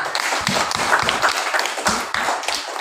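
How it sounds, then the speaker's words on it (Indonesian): Students in a classroom clap together in a short burst of applause, the claps irregular and fairly close, with a little faint voice activity in the room. "Beri dia tepuk tangan."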